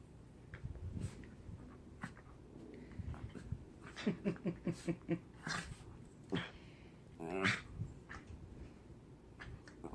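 Puppies play-fighting in the afternoon, close and quiet, with a burst of rhythmic yips and whimpers, low growls and scuffling mixed with a person's faint voice.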